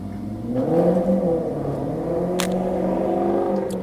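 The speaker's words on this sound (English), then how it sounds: "So when you hear the car around me, that's why." A car engine idles and revs up close in a mechanic's garage. A strong low hum rises and settles, with a brief sharp hiss partway through. No one speaks.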